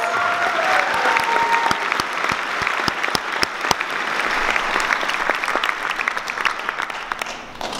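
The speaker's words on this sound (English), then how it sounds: "give them a round of applause because they deserve it" A crowd at a speech at a ski and snowboard festival applauds steadily, a dense wash of clapping with sharp individual claps standing out, loud and sustained throughout.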